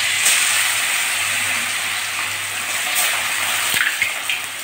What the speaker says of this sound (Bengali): এখন মাছগুলো এক এক করে দিয়ে ভেজে নিচ্ছি।